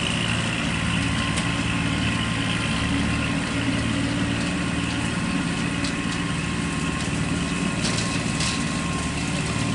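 A 2018 Kubota L2501 compact tractor runs continuously nearby with a steady, droning engine hum and broadband mechanical rumble, no talking over it.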